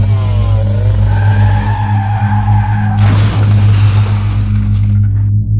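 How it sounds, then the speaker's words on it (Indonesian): A motorbike speeding off in a chase as a sound effect. A rising engine whine builds, then a loud burst of tyre-screech and roaring acceleration hits before fading out. "Riko tanpa pikir panjang langsung tancap gas."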